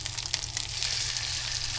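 Food sizzles steadily in a frying pan right after being flipped, a dense, close crackle with a low hum underneath and no talking.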